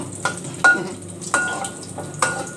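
Spicy Korean instant noodles and shrimp being stir-fried in a pan, with a steady sizzle broken by sharp scraping strokes of the utensil about every second, close up and with no talking.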